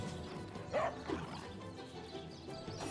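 A dog in the Divinity: Original Sin video game gives a short bark-like yelp during combat, one loud burst followed by a fainter second call, set against busy game noise.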